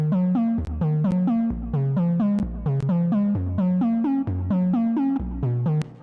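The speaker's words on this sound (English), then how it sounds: "I actually thought it was like an arpeggio synthesizer, but it's actually an 808 sound." An 808 sound played like an arpeggio synthesizer, a fast repeating pattern of punchy bassy tonal notes cycling up and down in a steady rhythm with occasional sharp clicks, loud and continuous with no voices.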